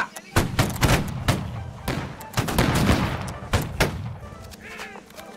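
Ragged musket volleys fired by a line of soldiers in Holdfast: Nations at War, several sharp overlapping cracks spread across the clip in uneven bursts, loud and close, with voices talking underneath.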